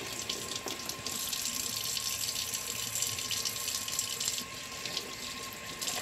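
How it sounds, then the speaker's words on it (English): Tap water runs steadily into a kitchen sink while raw chicken is washed, a continuous close splashing rush lasting several seconds, with one brief spoken word. "So now that the chicken is washed,"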